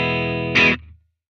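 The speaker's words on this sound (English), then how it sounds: "I'm going to go to the 6V6 GT." Guitar through an amp simulator set to 6V6 GT power tubes, a sustained chord ringing out, then a short burst of noisy strumming before it cuts to silence.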